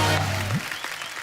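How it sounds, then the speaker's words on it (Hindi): A studio audience at a television comedy talk show breaks into applause, loud and dense at first and then tapering quickly. A low held tone sweeps upward near the start. "जोरदार तालियां हो जाए ध्वनि के लिए।"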